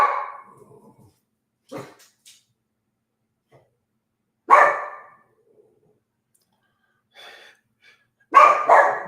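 A dog barks in a few separate outbursts, each a short burst of one or two barks, with long quiet gaps between them, fairly close and clear, with no talking.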